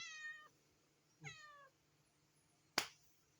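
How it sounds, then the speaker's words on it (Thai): A cat eating fish gives two clear, drawn-out meows about a second apart, close and fairly quiet, followed by a single sharp click in an otherwise quiet space. "แมวแมวแมวนะ"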